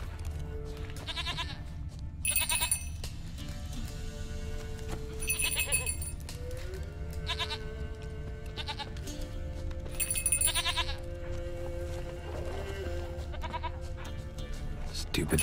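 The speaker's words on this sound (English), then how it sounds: "Stupid fucking goat." Goat bleats from The Witcher 3 come in repeated short cries over a busy game soundscape with music and clopping, with someone talking over parts of it.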